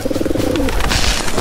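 A pigeon-like bird coos in a low, repeated throaty pattern, near and clear for about a second, with some background noise and no talk.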